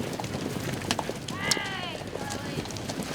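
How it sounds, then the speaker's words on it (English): Hooves of horses being driven in for the day at a western ranch clip-clop in a loose, scattered rhythm beneath wind and a nearby voice. "when the horses are driven in for the day"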